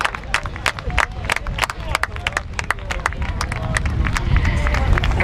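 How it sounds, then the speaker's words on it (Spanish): Spectators applaud the San Bartolomeu women's senior rowing champions at the Galician trainera championship final in Meira, Moaña. Loud, continuous clapping with crisp individual claps comes over a low crowd murmur and grows slightly fuller toward the end. "Forte aplauso vemos para estas campeonas de San Bartolomeu"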